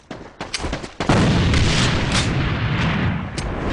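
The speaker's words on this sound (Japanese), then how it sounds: "手榴弾投擲。" Grenade toss and blast in the online shooter AVA: a few quick clicks and thuds, then a loud booming burst that rumbles and crackles on with gunfire-like texture to the end, no talk.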